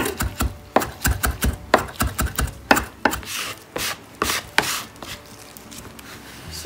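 A knife finely chopping zucchini on a cutting board, with rapid, loud, close thuds in uneven bursts, some taps clustered tightly and others spaced apart, and no talking.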